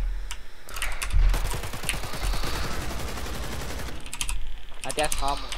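Rapid bursts of gunfire in the video game Hellmet, fast dense volleys of sharp shots with pauses between, close and loud, over keyboard and mouse clicks and brief talking.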